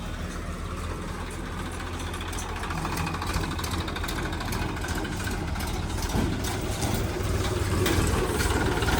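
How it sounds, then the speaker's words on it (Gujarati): A JCB backhoe loader engine runs steadily while manure is loaded, a continuous low diesel drone with metallic clatter, moderately loud and close, growing slightly toward the end, with no voices. "જો આ ખાતર ભરવા જેસીબી હેડ્યું."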